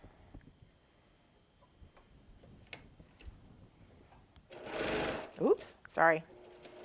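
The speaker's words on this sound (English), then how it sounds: "let's go ahead and go over here to the sewing machine" A PQ 1500 sewing machine stitching a log cabin quilt block: faint, steady ticking at first, then a short, loud burst of fast whirring stitching, followed by a brief spoken exclamation.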